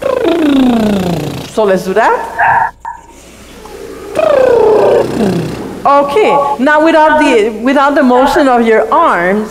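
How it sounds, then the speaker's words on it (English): During a choral directing session, a choir director demonstrates a lip trill vocal warm-up with buzzing, gliding pitch sweeps, mixed in with spoken instruction. "we'll try to just lip trill"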